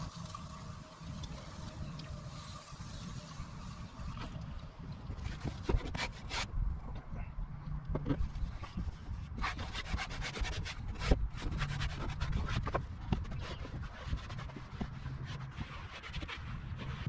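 Cloth rubs and wipes across a plastic rear inner fender well of a side-by-side being cleaned with Lemon Pledge, soft scuffing strokes coming in irregular bursts, close up, with no talking.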